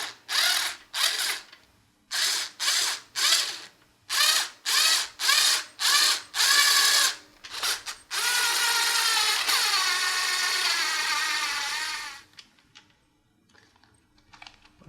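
A power drill whirs in a quick series of short bursts into wood for a guitar strap button, then runs in one steady, longer whine before stopping, loud and close with no talking.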